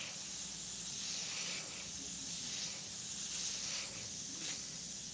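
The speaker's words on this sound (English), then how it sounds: "So let's just spray right there." An airbrush sprays paint onto a burning-matchstick artwork in a steady, fairly quiet hiss that swells gently a few times without pause.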